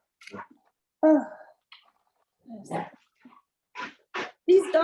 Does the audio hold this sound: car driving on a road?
no